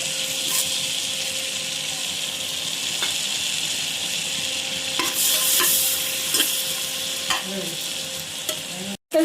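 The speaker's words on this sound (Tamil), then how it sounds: "பட்டை, கிராம்பு, ஏலக்காய், சோம்பு, பிரிஞ்சி இலை இதெல்லாம் போட்டு தாளிக்க போகிறோம்." Whole cinnamon, cloves, cardamom, fennel seeds and bay leaf sizzle and crackle in hot oil in a pressure cooker with a steady frying hiss, punctuated by a few clinks and scrapes of stirring.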